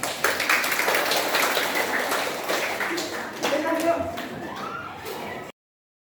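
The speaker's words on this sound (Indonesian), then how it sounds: "Oke, ya, tepuk tangan." A group of people clapping hands together in a classroom or workshop setting, a steady dense patter of many palms filling the room, fairly near, ending abruptly.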